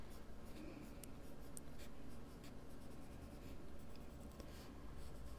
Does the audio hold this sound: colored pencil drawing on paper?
yes